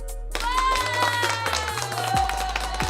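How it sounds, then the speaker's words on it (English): A live comedy-show crowd claps and cheers for a woman named Melissa, a dense burst of hand claps rising after a short pause and holding steady over a low musical drone, with some voices mixed in. "Melissa gets the round of applause."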